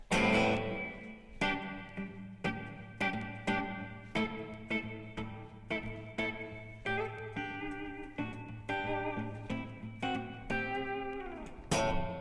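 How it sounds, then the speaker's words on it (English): An electric guitar is played through a very washy reverb turned all the way up: a sequence of picked notes and chords, each ringing out and blurring into a long shimmering tail, with no talking. "It's a very, very washy reverb."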